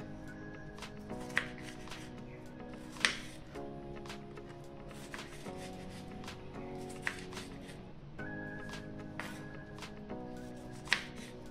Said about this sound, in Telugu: దీన్ని కూడా ముక్కలుగా కట్ చేసి ఒక బౌల్లో పెట్టుకుందాం।